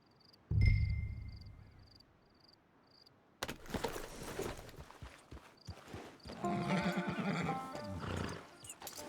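A horse in the Red Dead Online video game on PC gives a loud, close whinny, followed by steady clip-clopping hooves and further neighing, with faint insect chirps in the background.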